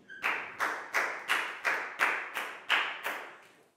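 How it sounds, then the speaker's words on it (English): A primary class claps together in a steady rhythm: about nine sharp, evenly spaced claps in quick succession, fairly close and clear, with no talking. "High five and a big round of applause for Dan, please, guys."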